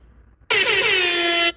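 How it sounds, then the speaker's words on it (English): A single loud, sustained air horn blast, steady for about a second, sounding alone right after a brief quiet gap in a livestream. "I had to give you an air horn"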